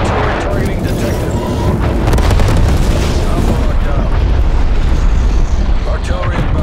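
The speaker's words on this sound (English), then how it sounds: "Artillery inbound." Artillery strike explosions in Call of Duty Black Ops Cold War, loud deep booms and rumbling blasts piling up continuously, with crackling debris and a dense low roar throughout.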